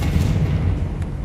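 A Confringo explosion spell from the video game Hogwarts Legacy bursts as a single loud, dense blast with a rumbling low boom that fills the short moment, with no talk.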